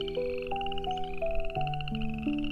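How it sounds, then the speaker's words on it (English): A cartoonish frog croaks in a children's fairy-tale read-aloud, a run of clear, tonal, stepped croaks over soft background music, close and alone without talk. "Ribbit, croaked a frog."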